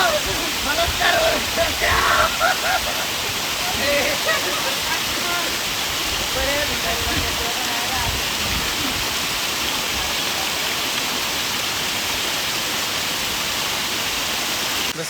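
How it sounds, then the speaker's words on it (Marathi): A hidden waterfall near Katraj, Pune roars as a constant, broadband rush of falling water after rain, with faint voices briefly audible early on beneath the steady torrent. "जसं की काय आपण आलो आहे त्या वॉटरफॉलला."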